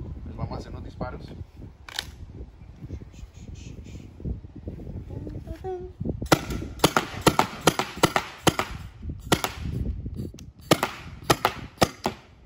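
A voice talks in Spanish over soft handling noises, then a Tippmann TCR paintball marker fires a rapid string of sharp, snappy pops in quick bursts.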